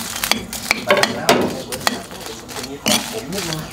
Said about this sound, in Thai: จะมาทอดพริกกันนะคะ